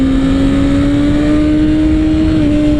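A Kawasaki ZX6R motorcycle at full throttle on a race circuit, its loud, steady high-pitched engine drone holding close and continuous, pitch rising slightly then dipping near the end, with no voices.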